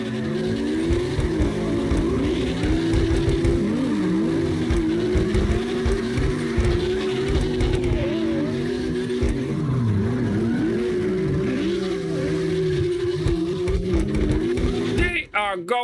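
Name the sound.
drifting cars in video game CarX Drift Racing Online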